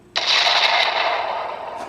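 A synthetic explosion sound effect erupts suddenly as a loud, dense roar of noise, holding strong before slowly fading, with no talking.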